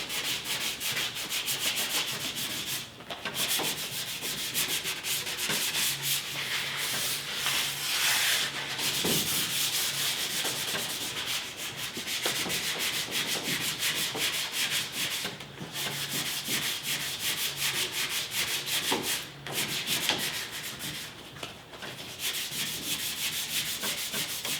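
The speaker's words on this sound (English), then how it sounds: "my fingers just follow the profile of the wood with the grain. Very light pressure. Not trying to sand it flat." Fine abrasive is worked by hand along the grain of Ercol wooden furniture during refinishing, using very light pressure. Steady, close, rhythmic scratchy rubbing strokes repeat with brief pauses and no talking.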